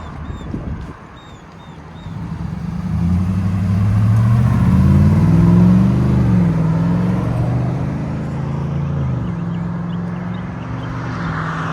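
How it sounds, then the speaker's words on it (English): A Chevy Silverado pickup's Flowmaster Signature Series catback exhaust rumbles deeply, rising in a sustained rev that swells, holds, then eases back to a low idle drone. "Flowmaster Signature Series catback exhaust"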